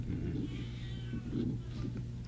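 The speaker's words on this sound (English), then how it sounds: "That was a cat." A cat meowing at night, two or three drawn-out, wailing cries, moderately close, over a low steady hum.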